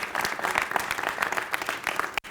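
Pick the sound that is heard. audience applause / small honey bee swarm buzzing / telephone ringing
audience applause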